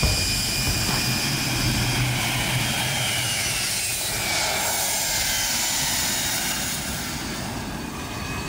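Aero L-39 Albatros jet aircraft engine roars steadily and loudly at close range, a continuous broadband rush with a high whine on top and no talk.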